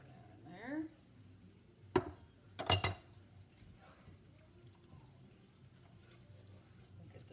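Ingredients for an enchilada bake are poured into a pan, heard as a couple of short clattering bursts with a brief splash in the middle of a quiet kitchen. A faint voice sounds briefly at the start.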